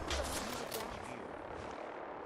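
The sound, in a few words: weather-clearing fireworks in video game Fallout 4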